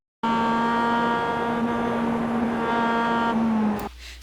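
A Mazda MX-5 engine held at full throttle at Summit Point in the iRacing sim, a loud steady drone of constant pitch with a brief drop as the lift comes just before the end.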